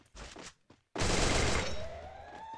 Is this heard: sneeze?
no